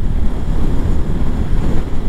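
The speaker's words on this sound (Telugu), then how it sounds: "అస్సలు గాలిలు అయితే పిచ్చగా కొడుతున్నాయి" Strong sea wind roars into the microphone on a road running between two stretches of sea near Dhanushkodi, a loud continuous buffeting rumble with no voices.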